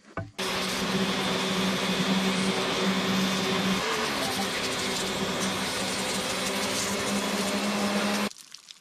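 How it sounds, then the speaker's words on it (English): A pressure washer runs steadily and loudly for about eight seconds with a constant mechanical drone and hiss, cutting in abruptly at the start and stopping near the end, with no talking. "Wish I had a better pressure washer though."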